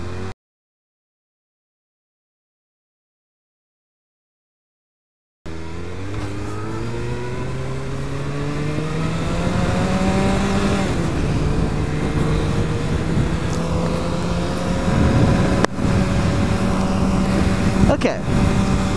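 A car on the road in traffic heading toward Bouquet Canyon, its engine climbing steadily in pitch as it accelerates after a silent opening, with a steady road roar and muffled voices inside the cabin.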